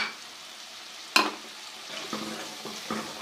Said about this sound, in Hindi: और अब इसको अच्छे तरीके से हम भून लेंगे